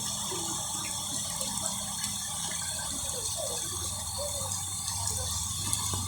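Strong floodwater rushes continuously past a collapsing wall in a dense, steady roar, with a faint mechanical clicking and rumble mixed into the noise.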